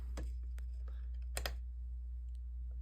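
A user button on a microcontroller board is clicked, giving a few soft, close clicks at the start and a sharper pair around the middle over a steady low electrical hum, with no talking.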